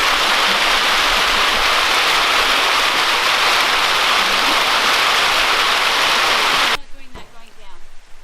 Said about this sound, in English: there is something soothing about the gentle sounds of water flowing over rocks